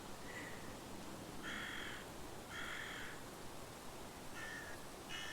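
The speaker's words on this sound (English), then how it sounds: "nothing more relaxing than crow sounds" Crows cawing in the game Book of Travels, several harsh caws in separate bursts of two or three calls, moderately near over a steady soft ambient hiss, with no voices.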